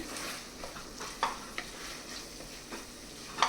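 Tomatoes for a curry frying in a pan, with a soft steady sizzle and several distinct spoon-stirring scrapes at irregular intervals, close and moderately loud, no talking.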